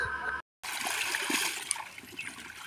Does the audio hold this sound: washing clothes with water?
yes